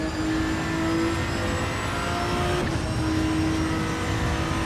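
Ferrari 296 engine droning steadily in the Assetto Corsa EVO racing game, a continuous whining hum with tonal harmonics and no talk.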